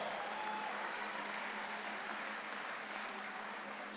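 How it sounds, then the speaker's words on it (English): A gymnasium crowd at a varsity girls basketball event applauds the freshman players in a steady, even round of clapping that fills the room at moderate loudness from start to finish. "Let's give our freshmen one more round of applause"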